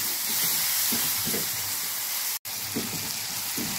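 Tomatoes added to a hot pan for mushroom dal, sizzling and frying loudly and steadily close up, with soft stirring scrapes pulsing through the hiss and a brief dropout in the middle.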